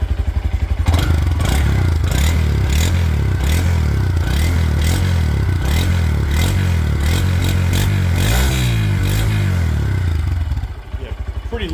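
A Honda Grom fitted with a Yoshimura exhaust runs steadily at close range, a loud continuous engine drone with some clattery mechanical noise and a slight revving rise near the end.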